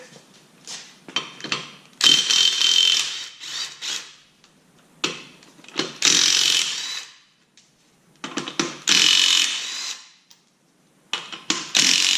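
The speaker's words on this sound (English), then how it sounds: "21 millimeter socket." A ratchet and 21 mm socket working on a 2013-2019 Nissan Versa Note during a CVT transmission removal, heard as loud, close bursts of rapid clicking broken by short pauses.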